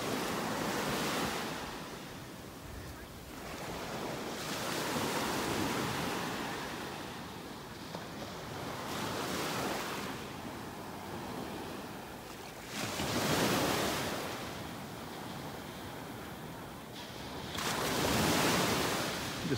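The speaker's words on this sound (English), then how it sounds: "Just letting you enjoy the sounds of the waves here, the sounds of the beach." Ocean waves roll onto a beach in North Naples, Florida, in slow repeated surges of crashing surf every few seconds, with wind buffeting the microphone and no voices.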